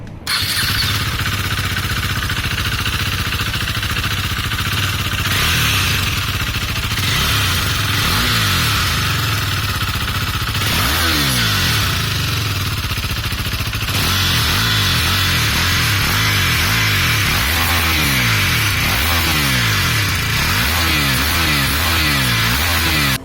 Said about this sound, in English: About the exhaust, here is what it sounds like through idling,